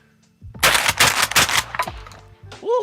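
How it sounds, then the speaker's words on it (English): A Mossberg 500 12 gauge pump-action shotgun fires several loud, close shots in quick succession, each followed by a rumbling echo. A brief exclaiming voice follows at the end. "Let's see if we can shuck some shells real quick"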